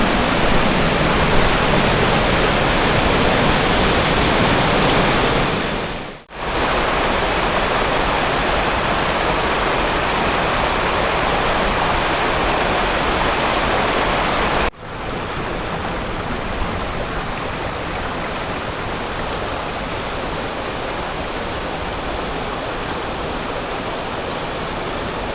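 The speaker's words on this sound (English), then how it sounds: "I thought I'd show you another nice little waterfall" A small mossy waterfall rushes in the rain, a loud, steady broadband roar of falling water that continues without pause apart from two brief cuts.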